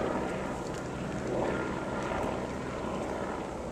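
A steady, loud rumble of helicopter rotor and engine noise fills the whole stretch, swelling slightly midway as the helicopter passes close overhead.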